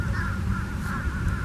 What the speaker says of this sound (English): There was also a huge flock of fish crows there, which I got some noise of, which I will play now in case you want to hear what a fish crow sounds like.